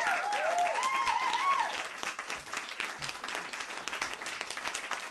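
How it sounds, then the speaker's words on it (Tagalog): Applause from a gathering in a House session, a burst of clapping that starts full and thins into lighter scattered claps, with a voice speaking over the first second or so. "Palakpakan nun natin itong si Kong Wap."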